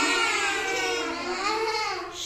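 Class 2 students in a school classroom imitate a cow's moo together, a drawn-out, wavering group of voices held at steady volume.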